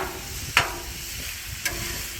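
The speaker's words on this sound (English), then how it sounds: "Everything's cooking fine. There's good sizzle on it." Steady sizzling hiss of vegetables cooking on a hot griddle, with two brief clinks of a utensil, fairly quiet and continuous.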